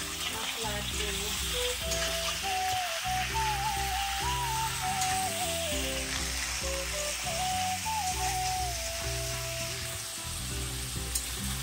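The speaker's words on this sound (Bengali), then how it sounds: "এখন চিকেন দিয়ে দেবো। চিকেনটা দিয়ে একটু ভালো মতো ভেজে নেব" Chicken sizzles and spits in a hot pan with browned onions, a loud continuous fry with occasional stirring scrapes and no one talking over it.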